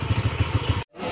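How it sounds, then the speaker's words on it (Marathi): A new CNG-powered motorcycle putters at idle nearby in an Alibag village with a steady low thumping beat, then the engine sound cuts out abruptly, leaving a softer background hiss. "दिनेश अण्णांनी बाईक घेतली का? फुल नवीन CNG वाली"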